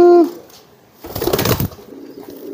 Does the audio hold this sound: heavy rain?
no